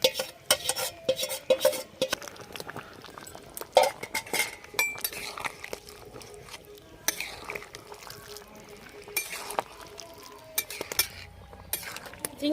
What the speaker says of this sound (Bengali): চিংড়ি মাছগুলো এঁচোড়ের সাথে ভালো করে মিশিয়ে দিচ্ছি।